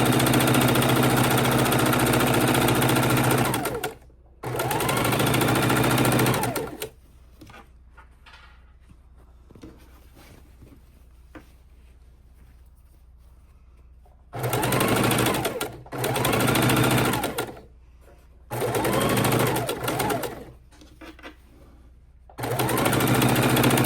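A sewing machine stitches quilt blocks in several loud, close bursts of fast mechanical whirring, separated by quiet pauses with soft fabric handling.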